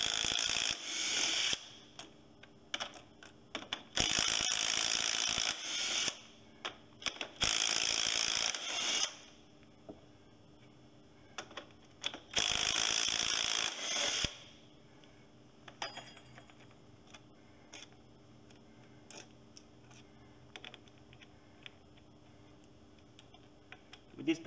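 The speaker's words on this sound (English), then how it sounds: "Now we'll just take off those bolts" A ratchet wrench removes the hub bolts during a leaking hub seal repair, clicking in loud bursts of rapid ratcheting separated by pauses, then quieter tinkering afterward.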